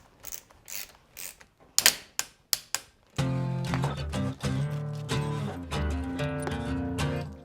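A ratcheting torque wrench tightens a mirror bolt to 12 Nm on a BMW R nineT motorcycle, giving a few sharp, close clicks before music takes over.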